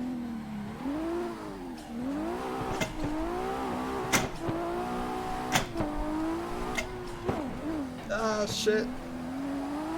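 A race car in Assetto Corsa drifting around Irwindale Speedway, its engine revving up and down in swooping waves with sharp tire squeals and bumps, close and loud, with a voice swearing briefly over it.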